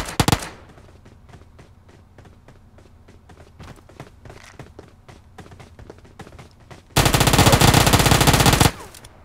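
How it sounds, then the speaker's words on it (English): Uzi fire in PUBG Mobile, starting with a loud opening burst, then a run of quick, fainter sharp pops and taps, and finally a long, loud continuous volley of automatic fire before it cuts off. "Yay for Uzi kills from across the map."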